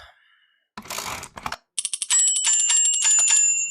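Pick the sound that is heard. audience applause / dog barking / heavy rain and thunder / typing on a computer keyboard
typing on a computer keyboard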